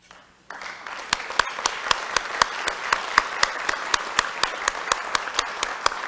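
A round of applause at a Rotary club meeting in Toledo, a changing-of-the-guard event, starts after a quiet moment. A room of hands claps steadily and fairly loudly, with a few sharper single claps cutting through the dense patter.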